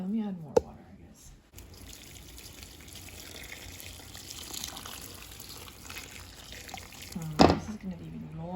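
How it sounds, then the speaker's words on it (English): Water poured from a container while making a homemade costume, a steady broadband pour running several seconds between brief clunks, fairly close and moderately loud. "let me add more water"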